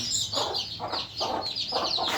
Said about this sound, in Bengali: মাশাল্লাহ আমাদের আরও তিনটা মুরগি বাচ্চা ফুটাইছে